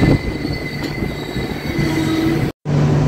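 Jalpaiguri–Alipurduar Tourist Express 15777, a vista dome special, rolling steadily on its rails with a continuous rumble and a faint squeal, broken by a brief dropout near the end before the running noise resumes.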